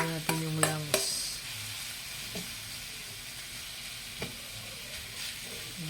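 Onion and garlic sautéing in a pan give a steady soft sizzle throughout, opened by a few sharp clinks of a utensil against the pan and a couple of later taps, with no voices.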